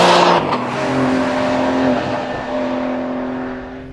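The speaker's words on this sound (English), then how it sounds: "Right now on track in the lightest GTS in rear drive coupe form" A Porsche 911 GTS T-hybrid rear-drive coupe with a flat-six engine runs on a race track, a loud close engine roar that drops after an initial burst into a sustained, steady droning tone as the car pulls away.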